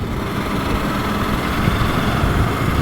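A Suzuki V-Strom 800 RE motorcycle engine runs steadily close by, a continuous buzzing drone with a rough low-end pulse and constant loudness, no voices over it.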